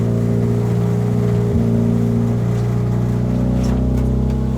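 A Mitsubishi Eclipse car drives along with its engine running in a steady, droning hum, close and constant throughout with a brief shift partway through.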